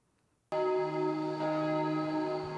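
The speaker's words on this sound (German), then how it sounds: "Noch hat die letzte Glocke nicht geschlagen." A church bell in Mannheim rung before a service, struck once loudly after a quiet moment, its rich metallic tone sustaining and humming on without decay.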